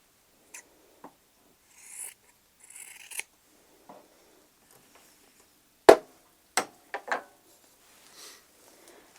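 Several sharp scissor snips ring out one at a time with pauses between them as quilt fabric is trimmed, close by and otherwise quiet.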